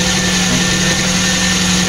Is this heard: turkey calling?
no